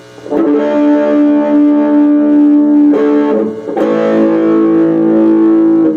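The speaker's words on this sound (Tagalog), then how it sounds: "Ito yung tunog kapag may gain." An electric guitar played through a Vox Satchurator distortion pedal with the gain up, power chords ringing out with thick sustain, one chord struck and then another after a brief break, loud and close.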